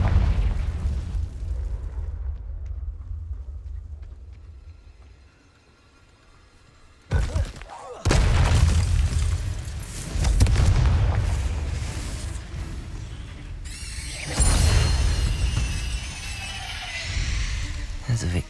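The Confringo fire spell bursts in Hogwarts Legacy, with loud booming explosions and crashing debris that surge and fade across the scene, layered with game sound.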